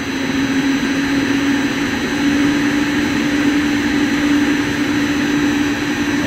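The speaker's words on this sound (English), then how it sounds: "All I really hear is the whine of the inverter frequency." An AAON HVAC unit runs its inverter-driven compressor at full speed, giving a loud, steady, unbroken whine with a broad roaring rumble underneath that lasts the whole time.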